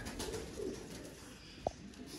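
Antique-breed pigeons in a rooftop loft give soft, low cooing against a quiet background, ending with a single short sharp note near the end.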